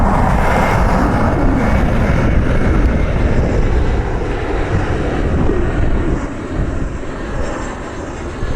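A Southwest Airlines jet airliner lands at Cleveland Hopkins airport, giving a steady, loud broadband engine roar that holds throughout and eases only slightly toward the end, with no voices.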